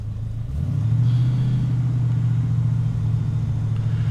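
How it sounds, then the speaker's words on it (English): A 1936 Plymouth Roadster engine, idling rough and shaking, rises in a deep rumbling rev after half a second and holds a steady, loud drone with no talking. "I'm gonna rev it up a little bit more."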